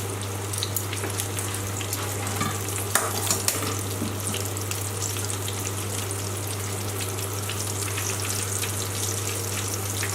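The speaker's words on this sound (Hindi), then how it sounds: "अब हमने तेल गरम कर लिया है और उसके अंदर कोटेड फिश जो है, फिले जो है वो डाल दिए।" Coated hoki fish fillets fry in hot oil in a pan, a steady close sizzle and crackle with a constant low hum beneath and a few brief clatters.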